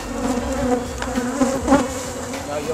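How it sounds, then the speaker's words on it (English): Agitated honey bees buzz steadily and close during a honey harvest, a dense continuous drone with no talk, the swarm's pitch rising and swelling briefly in the middle. "you'll notice these bees are a bit more twitchy and more aggressive"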